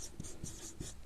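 Marker or chalk strokes on a classroom board during a biology lecture, three or four quick scratchy strokes in a row, close and fairly quiet with no talking.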